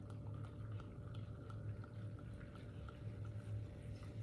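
Liquid pouring steadily for several seconds, a soft gurgling stream with small splashes, fairly quiet and close.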